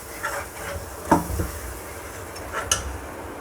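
Soft bubbling and hissing from Indian yellow gravy simmering in a pan, with a few brief pops and clinks breaking through a steady low rumble.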